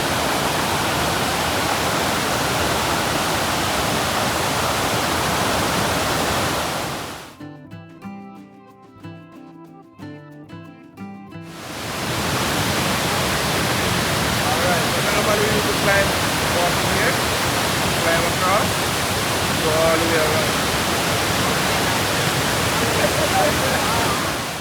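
YS Falls waterfall in Jamaica roars as a loud, dense, continuous rush of cascading water, cut by a few seconds of near silence before the roar resumes just as strongly.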